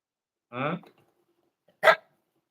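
A mangy dog barks twice, a longer harsh bark and then a short sharp one about a second later, nearby and loud against an otherwise quiet background.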